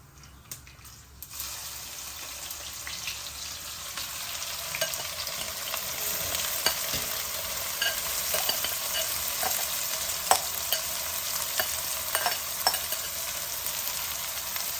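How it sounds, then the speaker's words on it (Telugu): Onions and cumin seeds sizzling in hot oil with mustard seeds, for a spinach and chukka kura curry, with a steady close frying hiss, stirring scrapes and scattered crackles and pops throughout. "తర్వాత ఉల్లిపాయలు వేసేద్దాం"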